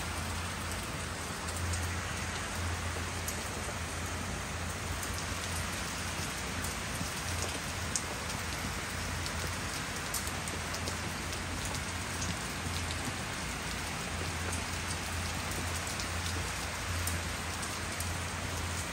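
Torrential rain pours down steadily in a dense hiss of drops hitting surfaces, soft and continuous, with a faint low hum underneath and no talking.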